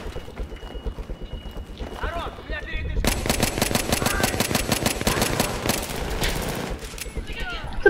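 Rapid gunfire from the video game Battlefield 3 crackles in a dense, continuous burst after a quieter stretch, mixed with in-game noise and players talking.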